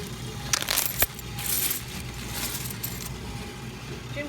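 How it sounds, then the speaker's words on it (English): Coins rattle and clink into the slot of a Coinstar coin counting machine in a brief metallic burst, then settle into a faint, steady mechanical whir. "pour your coins, lift and guide them into the slot"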